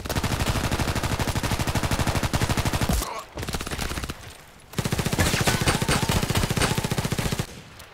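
A Glock 17 pistol in the video game Contract Wars fires in rapid, loud, evenly spaced shots that blur into a continuous stream, breaking off briefly near the middle before resuming just as fast.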